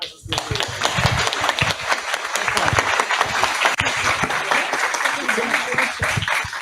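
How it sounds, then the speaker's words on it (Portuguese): Congregation clapping in church during a consecration service of the Assembleia Cristã Livre, a lively, close round of applause with distinct individual claps and some voices mixed in. "Uma salva de palmas para vocês."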